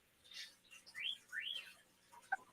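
Pet birds chirping nearby, several short rising whistled tweets and a couple of quick chips spread over a couple of seconds, fairly soft, with no talking.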